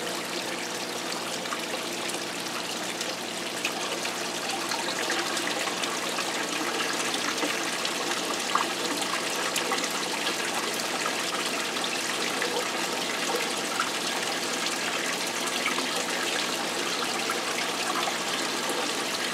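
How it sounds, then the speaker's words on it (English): Pumped water pours steadily down an indoor waterfall with the pump turned up, a continuous, close, even rush and trickle that never lets up. "By the way the water's flowing, I think I've got it turned"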